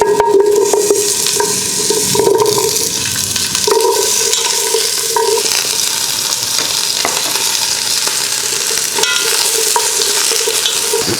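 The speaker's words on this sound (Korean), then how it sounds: "팬에 기름이 살짝 달궈지면 재료를 넣어서 볶아주시면 됩니다." Ingredients (vegetables for a dog-food vegetable and fish stock) stir-fried in a hot oiled pan, giving a loud, continuous close-up sizzle with frequent scraping and tossing sounds, no voices.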